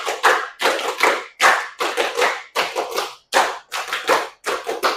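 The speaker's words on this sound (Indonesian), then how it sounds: "5 kali tepuk 5." Hands clap in quick groups of five, repeated several times in a steady rhythm, close and fairly loud with brief silences between sets.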